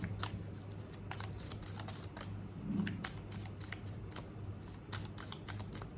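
Tarot cards shuffled by hand, a steady run of crisp, rapid riffling flicks over a low, constant hum, quiet and close with no talking.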